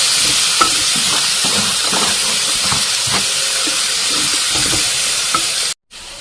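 Potatoes fry in a pan with a loud, steady sizzle and hiss, broken by soft stirring clatters, before the sound cuts out briefly near the end.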